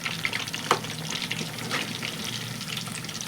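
Fish pieces deep frying in hot oil, giving a steady, fairly quiet bubbling sizzle with small pops and one sharper crackle, close up and with no talking.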